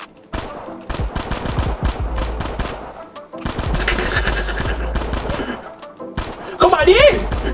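Gunfire from a Squid Game video game crackles in dense rapid bursts and scattered shots, loud and close, separated by brief gaps, with an excited voice shouting over the last burst.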